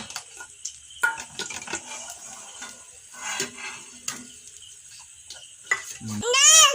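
Sizzling oil as egg devil fries in a pan, a soft crackling hiss with occasional clinks of a spoon against the pan, while a voice pipes up briefly near the end.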